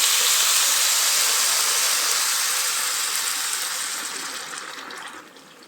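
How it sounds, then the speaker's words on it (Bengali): Boiled water pours steadily into a pot of rice for egg pulao with a bright hissing gush, close and loud, tapering off and thinning out near the end. "যে পানিটা আমি ফুটিয়ে নিয়েছি সেই পানিটাই দিয়ে দিলাম।"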